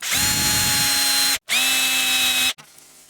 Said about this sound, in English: Now I've just got to drill a hole in here, put the wire through